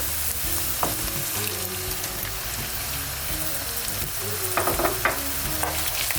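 Tomatoes hit a hot pan of lasagna sauce with tomato paste and minced meat, giving a loud, dense, continuous sizzle with occasional sharper crackles and utensil taps.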